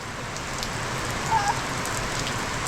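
Steady rainfall hisses on surfaces, a constant dense patter with no pauses and no voices.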